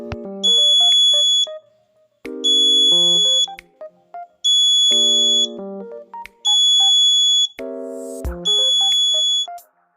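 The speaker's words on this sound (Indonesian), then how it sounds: "buzzer akan menyala dengan 1 detik dan mati dengan delay 1 detik" An electronic buzzer driven by a programmed alarm loop sounds in loud, melodic beeping bursts that switch on for about a second and then fall silent for about a second, repeating five times.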